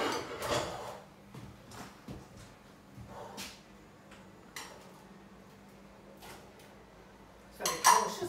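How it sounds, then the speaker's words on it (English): Chopped carrot and swede dropped into a pan on the hob, with scattered knocks and clatters of vegetable pieces and utensils against metal, close and moderately quiet, ending in a louder clatter. "then we can put the carrot and the swede in this one."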